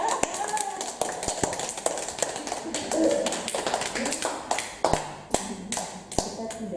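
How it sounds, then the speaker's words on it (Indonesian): Scattered claps and taps from a small gathering, uneven and sparse rather than a full ovation, mixed with some background chatter and movement. "Kita tepuk tangan ya."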